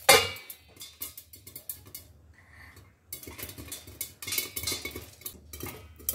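Jowar (sorghum) kernels pop in a covered pan, giving scattered sharp ticks and clinks in irregular bursts, with a short lull partway through before the popping picks up again, close and fairly quiet with no talking.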